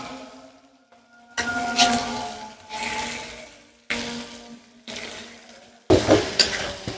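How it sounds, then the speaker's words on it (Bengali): Mashed potato stirred and fried with spices in a pan for an egg and potato ghati, with five or six separate bursts of scraping, stirring and sizzle between short pauses, close and moderately loud. "এখন সুন্দর করে আলু আর মশলাটারে মিলাইলিম।"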